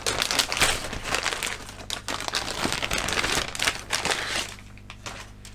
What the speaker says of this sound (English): a nice neat Ziploc bag full of sprues